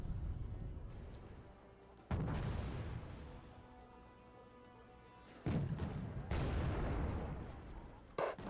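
Heavy tank cannon blasts from Jagdpanzers boom twice in Wargame: Red Dragon, each with a long rumbling decay, followed by a closer burst of muffled thuds, over a low game soundscape.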